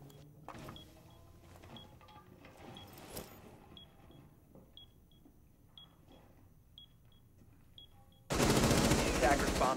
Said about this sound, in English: There are shots being fired, but nothing really connecting here